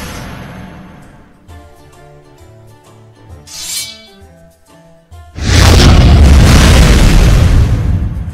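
Pyrotechnics explosion effect in the video game Magic Nations: a muted rumble and soft clinking build-up, a brief whoosh, then a loud, sustained booming blast with crackle that fills the end.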